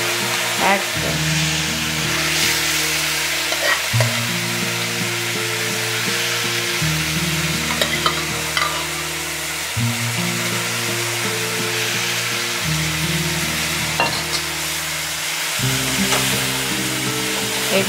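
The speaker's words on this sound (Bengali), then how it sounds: "এইভাবে এটাকে আমি কষবো যতক্ষণ এই জলটাকে এটার মধ্যেই কমপ্লিটভাবে শুকিয়ে নেবো" Mutton for biryani is stir-fried in its own cooking water in a pot, giving a loud, constant sizzle and bubbling hiss, while a low, steady hum from the burner or an appliance runs underneath in shifting tones.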